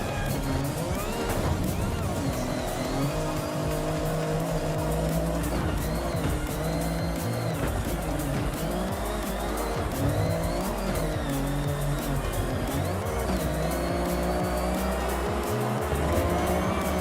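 A trophy truck races through an autumnal Japanese setting in Forza Horizon 6, its loud, continuous engine roar running unbroken throughout, with tire squeal and skidding as it corners.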